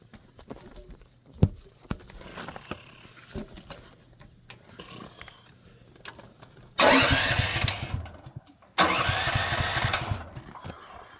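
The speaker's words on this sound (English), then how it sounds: "So why don't we go ahead and start the generator" A Champion dual-fuel generator engine is started, catching on the pull with a loud burst of roaring engine noise, dropping out briefly, then roaring again, after quieter clicks and handling sounds.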